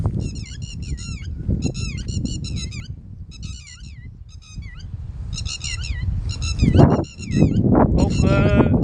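Calls of a bird regarded as a bad omen, repeated in short harmonic bursts throughout, with a steady low rumble and some noise underneath and a louder honking stretch near the end.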